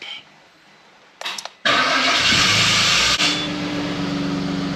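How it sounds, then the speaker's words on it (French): A taxi engine is started by remote control: silence, a few brief starter whirrs, then a loud cranking burst that catches into a steady idle rumble with a hiss on top, close by. "Il a mis longtemps le démarreur."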